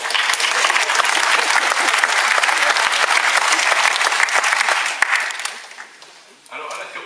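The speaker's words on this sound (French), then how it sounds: "qu'on pourrait applaudir quand même" A council chamber bursts into loud, dense applause after a general council presidential election round, holding steady for about five seconds before trailing off into a few scattered claps.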